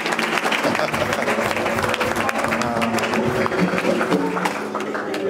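A church congregation at a baptism service claps and cheers in steady, dense applause that holds for the whole stretch, with voices shouting over it.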